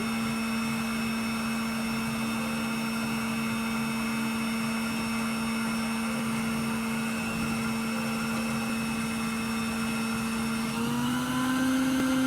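An electric mixer creams butter and sugar together for muffin batter in a bowl, giving a steady, even motor whine that runs unbroken throughout, with a slight shift in pitch near the end.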